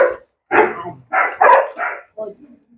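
A female dog named Julia, aggressive by nature, lets out a short run of about six close, loud barks in uneven bursts, fading to softer whimpering yips at the end.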